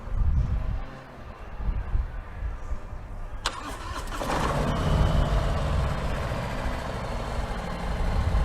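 A motorcycle engine is cranked over and catches after a few seconds, then settles into a steady, close idle that runs to the end, with no talking.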